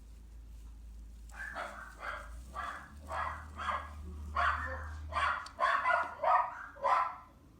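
A small dog barks about a dozen times in a quick, uneven series, fairly faint and somewhat distant, over a low background hum.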